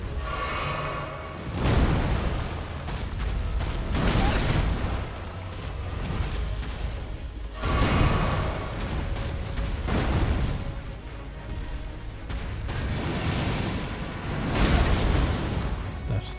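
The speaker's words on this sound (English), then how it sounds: "That's the big butt explosion." Repeated booming blasts roll through a fight in the video game Elden Ring, with several deep explosions and whooshing bursts arriving every few seconds over a dense, rumbling background.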